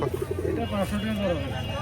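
A local Bengali pigeon coos in a quick run of low pulses at the start, then voices take over, at a market in Taherpur, Rajshahi.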